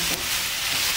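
Onion and colored peppers for a Dominican salt cod salad sizzle steadily in a pan while being stirred, a close, continuous hiss with soft scraping throughout.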